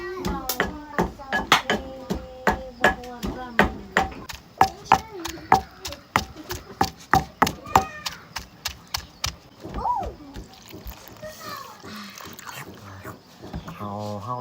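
Leaves pounded in a mortar for bamboo shoot curry, standing in for yanang leaves: a steady run of sharp, loud thuds for about nine seconds, with a voice talking over the strikes and then continuing after the pounding stops.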